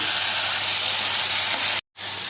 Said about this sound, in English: For 5 minutes I'll fry it like this, and after that I'll cover it with a lid